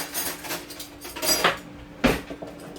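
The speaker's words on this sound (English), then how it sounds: "Just grab a spoon." A metal spoon pulled from a drawer of cutlery in a home kitchen, several short clinks and rattles of silverware, close and fairly loud, with a sharper clatter toward the end; no talking.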